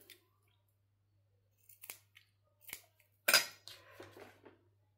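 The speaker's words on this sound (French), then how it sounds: "je viens couper" Scissors snip paper during a craft project, making a few sparse, close, quiet cuts in short separated bursts, with one louder crisp snip near the end and no talk.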